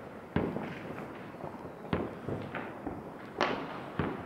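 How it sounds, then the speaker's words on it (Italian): Fireworks over Lamezia Terme at New Year: about six sharp, distant bangs at irregular intervals, each with a brief echoing tail, set against a low background hush with no talk. "fuochi d'artificio con le luci galleggianti nel cielo"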